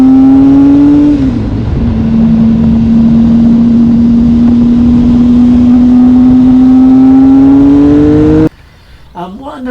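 A Triumph Speed Triple 1050 S with an SP Engineering exhaust, baffles fitted in the silencers, holds a loud, steady idle-to-mid-rev drone with a slight pitch dip and rise, then cuts off abruptly near the end.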